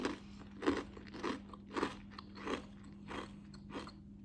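Someone bites into crunchy tangy ranch cheese crisps and chews, giving about seven sharp, evenly spaced crunches close to the microphone in a quiet room.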